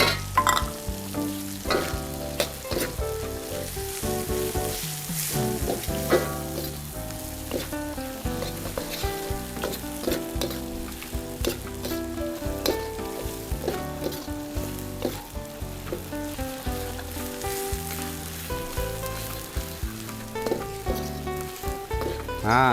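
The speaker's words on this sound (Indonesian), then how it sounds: "Ini kita panaskan dulu minyaknya. Nah, lalu kita masukkan combrangnya dulu ya." Torch ginger (combrang) fries in hot oil, a continuous crackling sizzle with scattered pops heard beneath steady background music.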